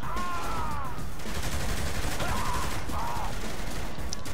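Gunfire crackles in Saints Row: The Third, a dense, continuous run of rapid shots and bursts at a loud, even level throughout.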